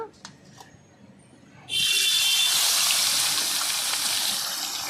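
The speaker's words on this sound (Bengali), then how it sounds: "তেল গরম হয়ে গেছে ভালো করে মাছগুলি এবার ভেজে নেব" Khoyra hilsa fish frying in hot mustard-seed oil: a sudden loud, steady hiss of sizzling breaks in after a couple of quiet seconds and holds strong to the end, alone without talk.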